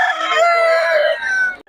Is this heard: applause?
no